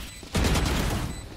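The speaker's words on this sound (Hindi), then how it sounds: "अरे यार ये फायर किया उसी टाइम पे डरा दिया मेरे को" Rapid burst of gunfire in the Valorant video game, a loud dense volley that kicks in after a brief quieter moment and holds steady for about a second before easing off, with no talking.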